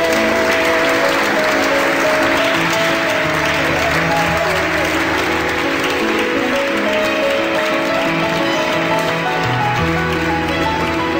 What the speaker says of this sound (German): Und sie dürfen ruhig klatschen.